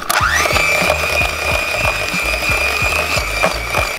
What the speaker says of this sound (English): then we're going to mix it again just for about 10 seconds